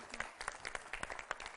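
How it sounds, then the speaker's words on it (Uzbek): During a TV game show, a studio audience gives a short burst of scattered, crisp clapping for the contestants, fairly faint and without talk. "Olqishlab qo'yamiz ularni."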